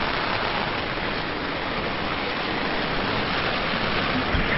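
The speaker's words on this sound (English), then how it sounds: "it's absolutely chucking it down" Heavy rain beats on a sailing boat's rain cover, a loud, unbroken wash of dense pattering that holds steady from start to finish with no voices.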